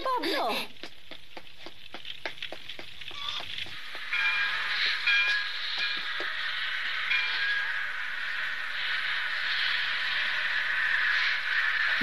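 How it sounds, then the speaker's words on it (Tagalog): A train runs in an animated cartoon: quick rhythmic clacking for a few seconds gives way to a steady, bright rushing rumble that holds to the end. "May papuntang tren sa Tucuman."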